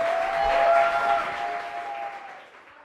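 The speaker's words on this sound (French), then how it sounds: "on les applaudit s'il vous plaît" Audience applause for participants at a quiz event, a soft wash of clapping that swells briefly and then fades away, with a sustained tonal hum running beneath it.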